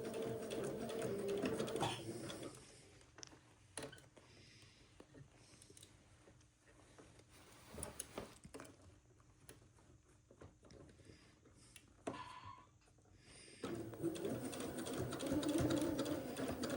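Sewing machine stitching a sleeve into an armhole, busy whirring bursts at the start and end with quieter pauses, fabric handling and light clicks between runs.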